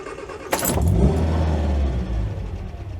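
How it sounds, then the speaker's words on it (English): A 1972 Sunbeam Rapier engine cranks and fires, heard from inside the car with the windows up, a quick burst of starter noise and then a rough, low, steady idle rumble. "Let's fire up the engine."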